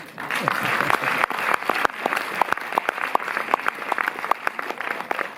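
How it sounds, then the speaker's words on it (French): An audience at a cinema screening at Le Méliès in Montreuil claps, with sharp individual hand claps over a lighter, thinner crowd and some talk mixed in. "on va tous s'applaudir parce que nous sommes tous publics finalement"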